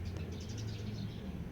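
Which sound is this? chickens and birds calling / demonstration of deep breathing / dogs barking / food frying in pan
chickens and birds calling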